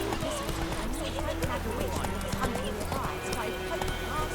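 Hooves of Roach, Geralt's horse in The Witcher 3: Wild Hunt, clip-clopping at a steady trot, close and continuous, with ambient game background and talk over the top.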